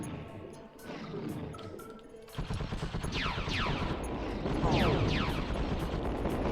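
Rapid bursts of weapon fire from a PS1 first-person shooter rattle in after a quieter opening, with repeated staccato volleys and growling creature noises during a close-range firefight, loud and continuous to the end.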